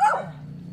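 A puppy gives one short, high yip-like bark up close, fading quickly into quiet.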